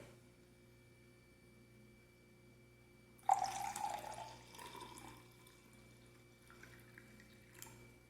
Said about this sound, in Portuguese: Vou adicionar o suco do limão e o suco do repolho roxo.